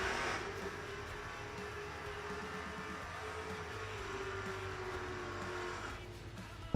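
Chevrolet Camaro race car on a timed run at a race meet, engine droning steadily at a distance with shifting pitch, no talk.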